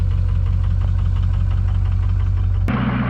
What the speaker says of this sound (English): We got this thing high idling